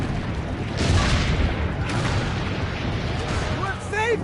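Deep booms of cannon fire during a city siege in the video game Assassin's Creed Brotherhood, two heavy blasts over rumbling battle noise, with a voice speaking near the end.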